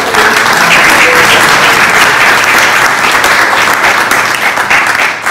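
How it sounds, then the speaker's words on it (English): Dense, steady applause from a large devotional audience, loud and sustained throughout with a broad wash of many hands clapping and no break. "Give him applause, Devaki Nandan Das."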